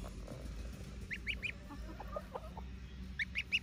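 Backyard chickens cluck in short bursts, close and moderately loud, with a goose among them and low background noise throughout.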